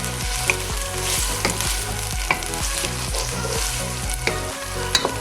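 Food frying in a pan on a low flame, a steady loud sizzle with regular stirring scrapes and small pops throughout, no talking.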